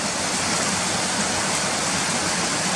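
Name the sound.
small waterfall flowing under a road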